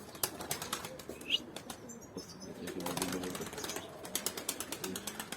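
A pigeon released by hand flaps its wings in rapid repeated claps, the beats fluttering close at first and continuing as a quick rhythmic series, with light rattling handling noise around them.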